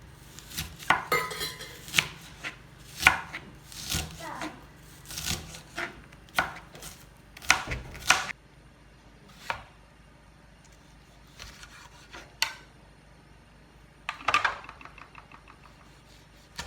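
Knife chopping an onion for coconut rice, a series of sharp, close chops in an irregular rhythm, clustered early then sparser with a quick flurry near the end, with light clatter of kitchen utensils and no talk.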